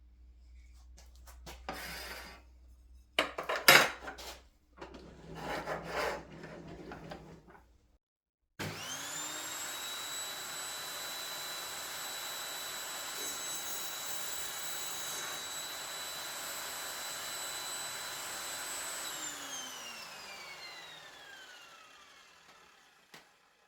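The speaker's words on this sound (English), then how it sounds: "Let's start off with cutting some copper pipe." An Evolution table saw cutting copper pipe: after some handling knocks, the motor spins up to a steady loud whine that holds for about ten seconds, then winds down and fades.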